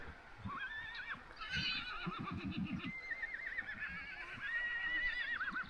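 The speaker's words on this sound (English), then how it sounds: "I reckon they're telling the other horses to catch up, to hurry up." Several horses neigh and whinny in open Mongolian countryside near Tunkhel, with high rising-and-falling calls repeating over about six seconds, plus soft hoof clops and low snorts underneath; fairly close and clear.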